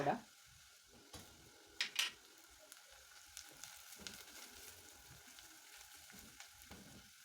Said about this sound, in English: I don't want to brown it, I just want to saute the spices a little